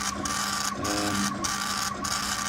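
A K40 laser cutter engraving a clock face runs with a steady mechanical whir and buzz, the head sweeping back and forth in regular passes about every 1.2 seconds, close and continuous with no talk.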